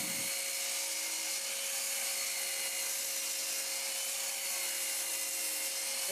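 A bandsaw cuts a wood piece in half, giving a steady, high-pitched whine with a constant hiss of blade on wood, holding evenly throughout the cut with no talking.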